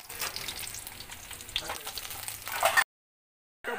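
Food sizzles and crackles steadily in a hot pan during stir-frying of chicken with scallions, a loud, close, continuous hiss that swells near the end and cuts off abruptly, with a brief return after a short silence.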